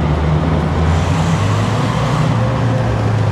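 A 1968 Matra M530 drives along with a constant, loud, low engine drone and road rumble that hold steady from start to end, with no voices.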